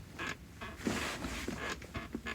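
A squeaky, creaking center console armrest in a 2004 Honda Element being folded down, giving several short, close creaks and squeaks in bursts over about two seconds.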